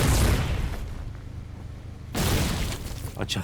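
Charon gunboat artillery in Foxhole fires, a deep boom with a rumbling tail that fades, then a second heavy blast, with faint voice chatter underneath.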